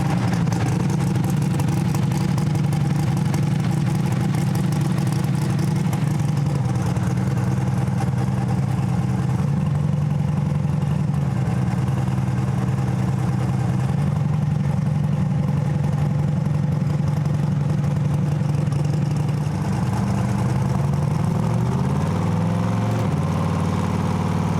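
A Pro Mod race car engine, tuned for pump gas and street driving, idles steadily and loudly up close with a deep, lumpy rumble that stays even throughout, with a slight change in pitch near the end.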